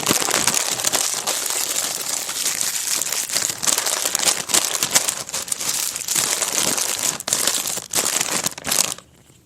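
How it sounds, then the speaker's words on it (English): Nacho cheese Doritos bag and snack packages being crinkled and crushed close up, a loud, continuous rustling and crackling that runs for several seconds before stopping abruptly. "That's the sound of a bag of Doritos,"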